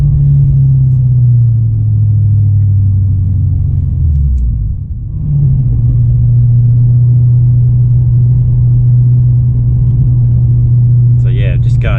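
A car engine in a tunnel hums steadily, dips as the driver downshifts, then rumbles back up into a sustained, loud, echoing drone for several seconds.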